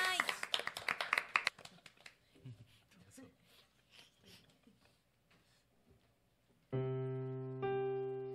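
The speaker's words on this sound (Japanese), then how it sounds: "じゃあ温かい拍手でお願いします。" Scattered audience clapping at a public radio recording, a brisk burst that thins into sparse claps, followed by sustained musical tones.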